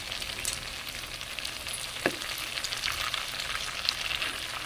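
Tofu frying in a pan gives a soft, constant crackling sizzle at modest volume, broken by a few sharper pops and a scraping stir midway.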